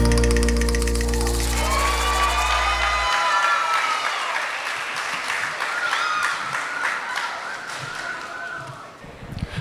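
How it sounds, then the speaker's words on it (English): At a diversity celebration, an audience breaks into applause and cheers as music ends, the clapping swelling then tapering, with scattered shouts over it. "Can we give them another round of applause?"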